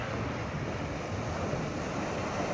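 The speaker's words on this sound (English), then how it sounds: "The sea." Sea waves at Ucluelet, British Columbia wash in a steady, broad roar of surf, with wind-like noise throughout and no voices.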